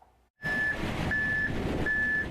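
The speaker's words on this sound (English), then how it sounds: "Driving a truck that mixes concrete." A concrete mixer truck from Chandler Concrete reverses with three evenly spaced, loud reversing beeps over a steady diesel engine rumble, with no talking.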